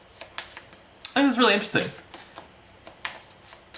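Cards being shuffled during a solo game of the Taverns & Dragons board game, a brief crisp riffle close by for about half a second, with a person talking before and after.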